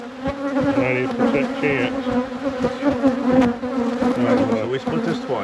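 Dense honey bee buzzing swarms around an open hive during a colony split, a steady droning hum with shifting wing-tone whines close to the microphone, while people talk quietly under it.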